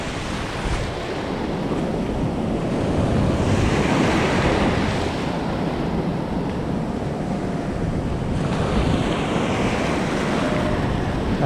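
Ocean waves break on a beach in steady, continuous surf, loud and close, with wind rushing across the microphone and surges swelling around the middle and near the end; no voices.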